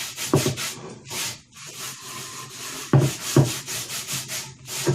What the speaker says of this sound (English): So you're just scrubbing it as if you were using Comet on the kitchen sink.